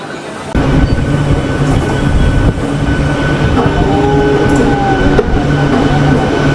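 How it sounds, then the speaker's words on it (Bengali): A Digha local train from Howrah rolls into Digha station with a loud, steady rumble of wheels and carriages, high metallic wheel squeals rising partway through, and no voices. "আমাদের ট্রেন এখন দীঘা স্টেশনে ঢুকছে"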